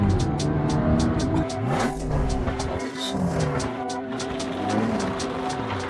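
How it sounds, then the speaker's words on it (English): Ferrari 360 Spider, a rebuilt formerly abandoned car, driving on a public road, with a steady engine drone and rolling road noise throughout, loud and close, with no talking. "This is the first time driving on the public road."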